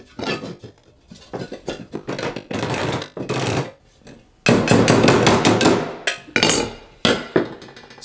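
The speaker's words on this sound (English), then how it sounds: "use a hammer to knock it up" A hammer knocks up a piece of metal held in place by two clamps, in a string of sharp ringing blows, some spaced out and others in rapid clattering bursts, close and loud with no speech.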